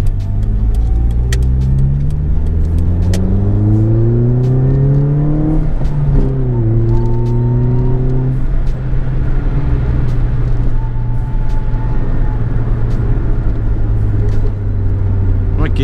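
A Ford Fiesta Mk5 Zetec-S drives along, its engine rising through the gears under constant road and wind roar, with a thin whine from the gearbox riding over the drone.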